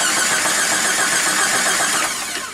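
A car engine turned over with a remote start switch during engine work, loud and steady mechanical noise throughout, easing slightly toward the end.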